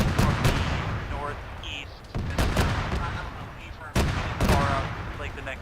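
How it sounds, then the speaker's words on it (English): Gunfire in a military video game: loud, close bursts of rapid shots and heavier reports in dense clusters, over a constant rumbling din, with a voice speaking over it. "Hey, we're taking fire from the northeast."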